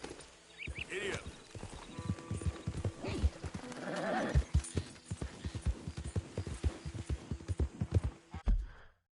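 Horse hooves clip-clop steadily in Red Dead Redemption 2, a brisk rhythmic gait up close, with a whinny near the start and a voice speaking to the animal.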